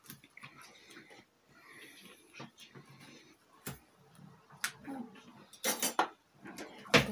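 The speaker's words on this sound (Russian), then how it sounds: "Вот так вот перемешаю ложкой." A spoon stirs vegetables with a little vegetable oil for oven-baked chicken thighs with vegetables, giving scattered clinks and scrapes that grow louder toward the end, with a soft voice in the background.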